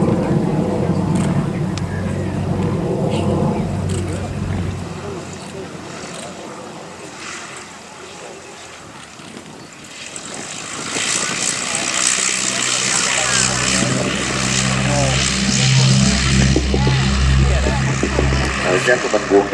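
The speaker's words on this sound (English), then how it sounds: "watch a Miles Gemini doing touch and go" A Miles Gemini aircraft performs a touch and go at a grass airfield. Its propeller engine drones at a distance, fading and then growing louder again, while someone talks throughout.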